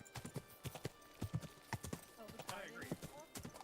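Horse hooves clip-clop in a steady run of close, crisp knocks inside a video game, heard together with voices talking and a brief whinny.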